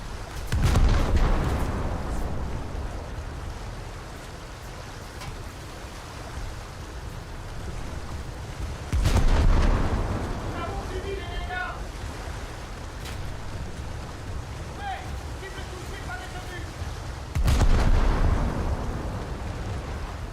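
A warship in a naval video game fires armor-piercing shells: three loud, deep booming salvos at roughly eight-second intervals, each decaying into a rumble, over a steady wash of engine and sea noise, with no talking.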